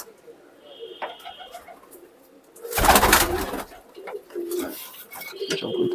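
Soft, low cooing of pigeons repeats in short phrases, joined by a loud rustling burst midway and scattered chirps nearby.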